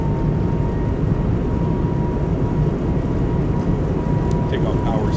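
Airbus A220 jet engines spooling at takeoff power in a flight simulator, a steady, loud roar with a sustained whine running throughout, alone with no talk.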